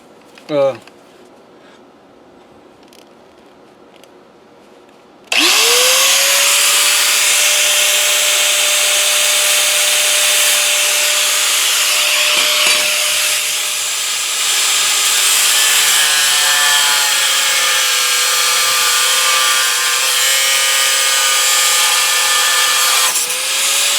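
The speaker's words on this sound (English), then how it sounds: "I'm cutting threaded rod down to about 3 inches." A power saw cuts threaded rod down to about three inches for a woodburning heater build, starting abruptly and running as a loud, steady, high whine for the rest of the clip, with a slight dip in pitch partway through.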